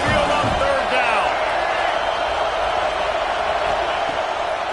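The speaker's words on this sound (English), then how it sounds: "The Tide crowd rolling noise down onto Saban Field on third down." A college football crowd of Alabama Crimson Tide fans roars at Saban Field on third down, a loud, unbroken wall of stadium noise that holds steady throughout with a faint voice near the start.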